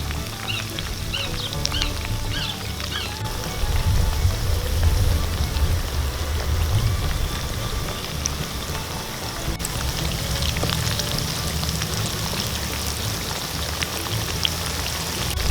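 Sliced eggplant frying in hot oil in a pan, a steady dense crackle and sizzle that stays even and close throughout with no talking.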